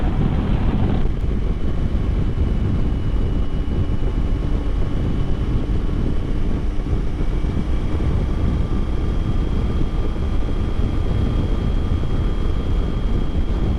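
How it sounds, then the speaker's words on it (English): Steady wind rushes over a microphone during a motorcycle ride along a lake shore, a constant broadband roar with faint tonal hums throughout and no break. "it's like the wind is coming off the water"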